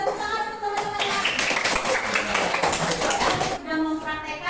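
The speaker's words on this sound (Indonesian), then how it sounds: "Silakan kelompok multi tepuk tangan untuk teman-temannya." Applause from a group of students in a classroom after a Friday prayer practice, a dense burst of clapping lasting about two and a half seconds between stretches of voices.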